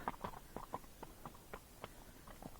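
Hooves of a Missouri Fox Trotter horse in a foxtrot gait, moving downhill, produce a steady uneven clip-clop of close, distinct footfalls, heard alone.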